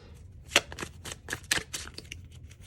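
Deck of tarot cards being shuffled by hand, with a series of crisp riffling bursts and soft slaps in an irregular rhythm, close and fairly quiet with no talking.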